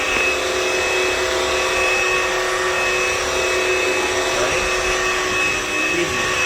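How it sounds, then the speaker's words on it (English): A cordless wet dry vacuum cleaner runs in eco mode with a steady, loud, even whine and airflow hiss, unbroken and close, without speech. "Okay, so it's vacuuming."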